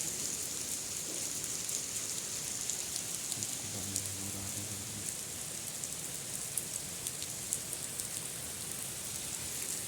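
Steady rain pours down on an animal standing out in the open, a dense, even hiss of drops with a faint low patter throughout and no voices.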